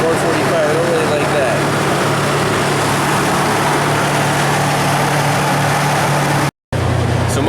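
A 1996 Toyota 4Runner V6 engine idles high and steady, a continuous low hum that stays level throughout, broken by one brief dropout near the end.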